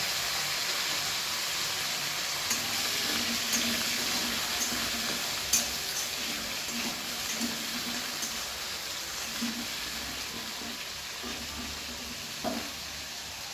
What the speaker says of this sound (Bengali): আমি পুরো আলুগুলো ভেজে নিয়ে তোমাদেরকে দেখাচ্ছি